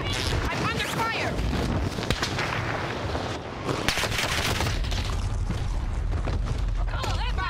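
Rapid gunfire in the battle royale shooter Warzone, a dense, continuous barrage of shots and booms filling the whole stretch, with voices talking over the din.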